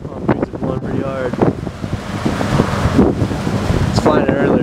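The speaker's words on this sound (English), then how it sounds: "See, it's pretty windy outside." Strong wind blows outdoors against a microphone, giving loud rumbling buffets and a steady roar, with scattered voice-like fragments mixed in.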